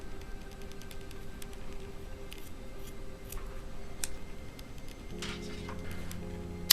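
Scissors snipping a short 2 to 3 inch section of paracord for a fishing bracelet, a few faint sharp clicks and cuts scattered over quiet room tone, with a low hum starting near the end.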